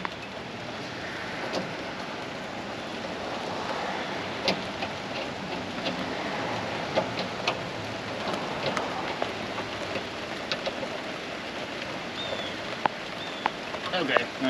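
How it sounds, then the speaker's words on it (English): Rain falls steadily as a broad, even hiss with scattered sharp droplet ticks, heard outdoors near an old AMC Pacer car. "it started raining again"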